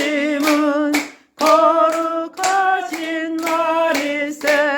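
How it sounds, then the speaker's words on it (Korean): Congregation clapping along to a Korean hymn at a worship gathering in Jochiwon, with loud, steady beats mixed under a singing leader's voice. "우리 박수 치면서 시작!"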